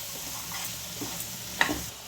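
Cumin and fenugreek powder being stirred in hot oil for gooseberry pickle, a soft low sizzle with light scraping strokes and one brief clink, close and quiet, without speech.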